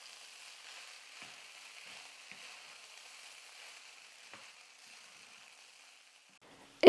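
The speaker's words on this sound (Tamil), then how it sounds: "இப்போ எல்லாத்தையும் சேர்த்து நல்லா கலந்து கொடுத்துக்கலாம்." Leftover idli upma with egg fries quietly in a pan on a low flame while being stirred, giving a soft, steady sizzle that ends in a sudden sharp clunk.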